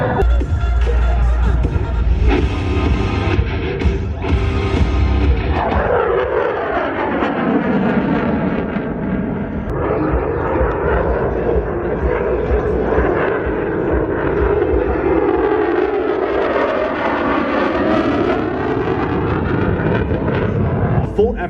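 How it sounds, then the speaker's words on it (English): An F-16 jet on full afterburner pulls into a near-vertical climb at the Rhode Island Air Show 2018, a loud sustained roar with sweeping pitch as it passes, while an announcer talks over it. "Full afterburner accelerate his aircraft into a nearly vertical climb, demonstrating the F-16's awesome thrust-to-weight ratio"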